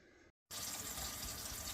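Water running steadily from a well system into a drain, a constant hissing rush that cuts out briefly and then resumes louder and unbroken.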